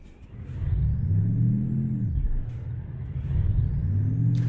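A heavy Iveco TurboStar truck engine in Euro Truck Simulator 2 rumbles steadily, its pitch rising and falling as it revs and shifts, with no talking.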